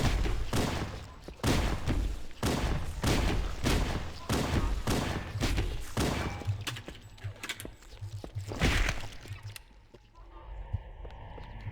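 Pistol shots in Halo: Combat Evolved Anniversary fire in a rapid series of loud, evenly spaced cracks, then give way to quieter sounds near the end.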